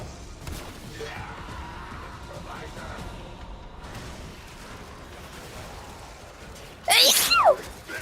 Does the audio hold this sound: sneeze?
yes